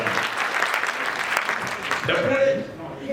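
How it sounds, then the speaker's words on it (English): A crowd at a political campaign gathering in Toronto claps for His Excellency, a dense, steady round of applause that carries on under ongoing speech and then tapers off. "I think we should give a round of applause for His Excellency for doing that."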